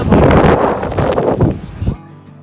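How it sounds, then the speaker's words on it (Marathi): Strong wind at the Amboli waterfall blasting spray upward, a loud, close roar of gusts buffeting the microphone that cuts off abruptly near the end. "हवेच्या वेगाने पूर्ण पाणी ते वरती येत आहे."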